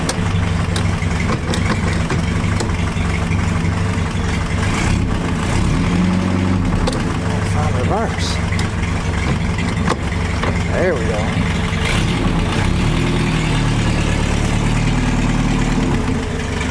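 A 1960 Mercedes-Benz 190B engine idling after its first start in 50 years, a loud, steady, close rumbling idle running throughout while people talk over it.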